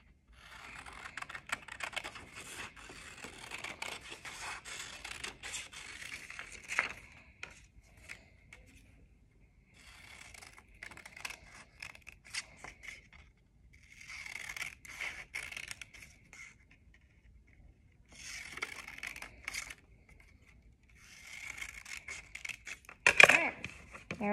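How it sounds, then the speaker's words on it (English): Scissors snip through dark paper while cutting out a paper turkey wing for a craft, in short close bursts of crisp cutting with quiet pauses between them and no talking. "cut around so that I can cut in instead of having to get my scissors into that little teeny hole"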